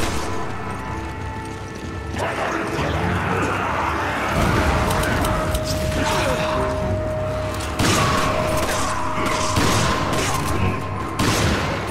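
Explosive bursts and crashing impacts from a grenade fight in Resident Evil 5, dense rattling blasts layered over mechanical clatter and a sustained tone, loud and continuous throughout.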